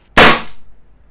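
An Umarex Beretta M92 CO2 BB pistol fires a single sharp, loud pop at a box, with a quick decay afterward.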